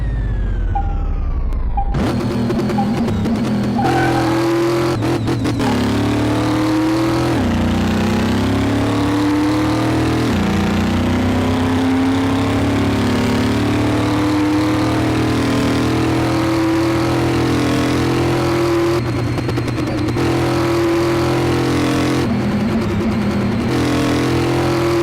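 A car in a drag racing series revs hard and runs down the strip, its engine climbing through repeated gear changes in a loud, sustained roar that lasts throughout.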